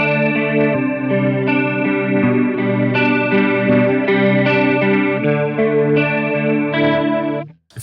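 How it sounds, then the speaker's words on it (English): Electric guitar with a chorus effect, playing sustained chords and shimmering notes alone for about eight seconds at steady loudness, with a slight wavering thickness before the last chord cuts off. "So right there I've got a bit of a chorus sound dialed in."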